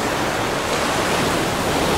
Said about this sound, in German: Der Wind und die Gischt konnten mir das gerade ausmarschieren, aber ein wenig versüßen.